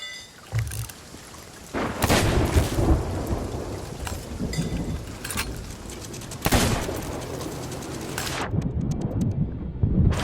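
Heavy thunderstorm during a Sea of Thieves voyage: loud rolling thunder cracks over steady driving rain, with repeated booming bursts across the stretch and no talk.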